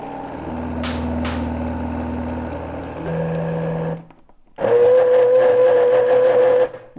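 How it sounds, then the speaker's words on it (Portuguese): A kitchen blender whirs loudly in steady bursts, cutting out briefly and starting again with a higher, strained whine. "Não judia do liquidificador, cuidado"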